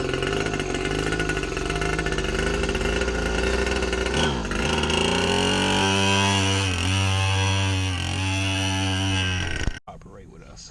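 A small 49cc red dirt bike engine runs loud and close, buzzing steadily with a few revs in the middle before cutting off abruptly near the end.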